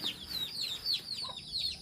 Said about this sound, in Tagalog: Tingnan natin ang ating mga alagang manok.